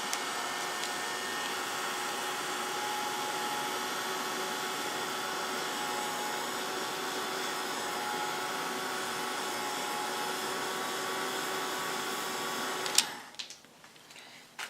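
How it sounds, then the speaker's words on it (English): A handheld heat tool for craft card making blows steadily and loudly with a constant whooshing hum for about thirteen seconds, then cuts off abruptly, leaving a quiet room with faint handling noises. "Maybe try this in between with the heat tool."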